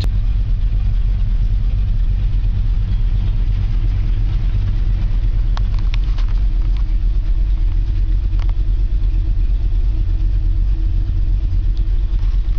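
A 1964½ Ford Mustang engine idles after a cold start, giving a steady, loud, close low rumble that runs unbroken throughout.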